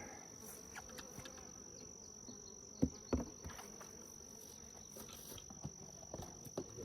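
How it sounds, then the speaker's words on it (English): Honeybees buzz in a faint, steady drone inside an opened white hive, with occasional soft knocks and taps breaking through. "There's quite a few bees up in here."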